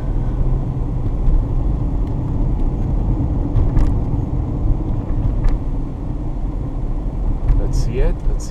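A car drives along a road through chicanes with a steady, loud engine and road rumble throughout, while people talk inside.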